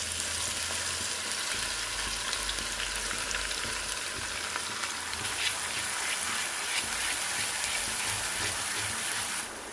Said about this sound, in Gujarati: તેલ નોર્મલ થોડું એવું ગરમ થઈ જાય પછી અહીંયા આપણે ચોપ કરેલા મરચાં લઈશું અને તેલની અંદર નાખી દેવાના છે